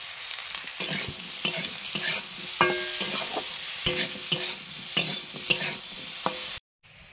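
Nigella seeds crackling in hot mustard oil, a steady close sizzle broken by sharp spatter pops and scraping stirs throughout, ending in abrupt silence.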